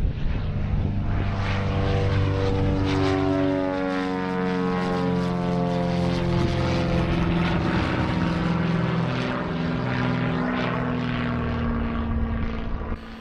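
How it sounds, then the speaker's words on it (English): Skybus propeller aircraft taking off from the Isles of Scilly, a loud, sustained propeller-engine roar with shifting pitch that holds steady for about thirteen seconds, close and with no voices. "watch another aircraft taking off on its way back to the mainland"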